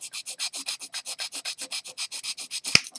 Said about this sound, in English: Let me sand it down a little bit here.